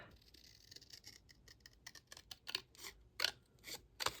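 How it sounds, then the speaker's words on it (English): Tim Holtz scissors snip through paper in a quick, irregular series of crisp, close cuts, growing a little louder toward the end, with no voices. "bring in the Tim Holtz scissors"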